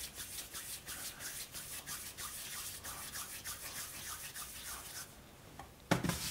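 Hands work soft yeast dough for a braided six-strand loaf, rounding it and building tension, giving a close, rhythmic rubbing and patting with soft repeated strokes and a sharper knock near the end.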